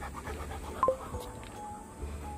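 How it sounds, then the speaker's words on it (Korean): A muzzled dog in a park pants faintly. Rapid, soft breaths run under outdoor background noise, with one brief sharper sound partway through and no clear speech. "방금은 진짜 개 숨소리였어요."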